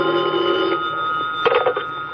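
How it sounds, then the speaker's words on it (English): An old telephone rings in a rooming house lobby in a 1946 radio drama, a loud, steady electric bell tone with a short burst of rings near the end, no voices. "the phone in the lobby started ringing."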